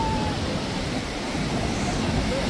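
Big sea waves rolling in at Malvan beach on the Konkan coast make a constant loud roar of surf with wind buffeting the microphone.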